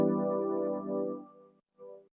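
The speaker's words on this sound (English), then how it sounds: "that's just like chords sidechain to the kick and snare" Ambient sustained chords sidechained to a kick and snare, sounding alone and fairly quiet, swelling and dipping in level before cutting off briefly and returning for a short final chord.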